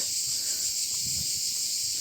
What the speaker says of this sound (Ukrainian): І оці крики цикад.